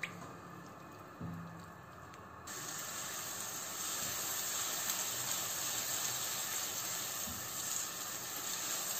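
Chopped onions fry in a pan: a quiet start with a faint knock, then a steady, even hiss and sizzle that holds to the end.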